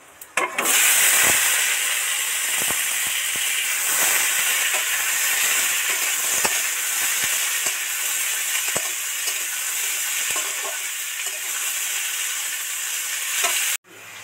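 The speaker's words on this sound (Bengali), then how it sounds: "এবার সব কটা সবজি ওর মধ্যে দিয়ে দেব।" Vegetables dropped into hot oil spiced with bay leaf, cardamom and dried chilli for a cucumber curry, a loud sudden burst of sizzling that settles into a steady hiss with occasional stirring clicks, no voices.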